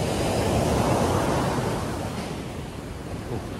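Morning surf at Kuta Beach, Bali, under overcast skies: a steady broadband roar of breaking waves with wind buffeting the microphone, loud and continuous, slowly easing off a little, with no voices.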